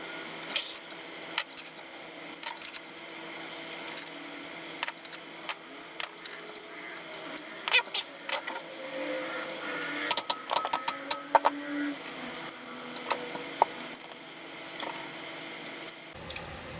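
Small nuts threaded by hand onto the mounting bolts of a Dial Copperline 2395 motor, giving faint, scattered metallic clicks and scrapes close by over a quiet room hiss, with no talking.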